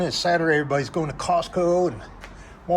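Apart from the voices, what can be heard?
No distinct noise like a dog, phone or traffic.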